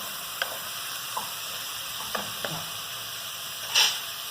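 Cabbage curry sautéing in a pan, a steady soft sizzle running throughout with a few faint stirring taps and a brief louder hiss of steam near the end, no voices.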